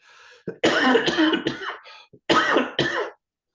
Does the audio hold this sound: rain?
no